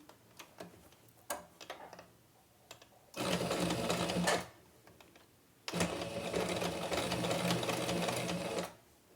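A sewing machine stitches and backstitches a tea towel, running in two long steady bursts of rapid mechanical whirring, with light clicks and handling noises in the pauses.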